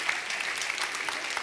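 Church congregation clapping to welcome newcomers at a morning service, a dense burst of steady applause from many hands filling the room.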